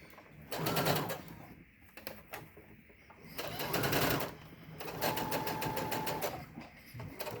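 A sewing machine runs in several bursts while back stitching a fabric face mask with a filter pocket, its rapid mechanical whir starting and stopping, close and fairly loud, with faint talk in the pauses.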